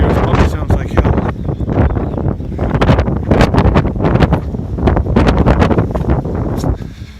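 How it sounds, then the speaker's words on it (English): Strong wind buffeting a microphone outdoors, loud continuous rumbling gusts with rapid flutter, heavy throughout the stretch and fading slightly at the end. "I'm going to get out of the wind here. It probably sounds like hell."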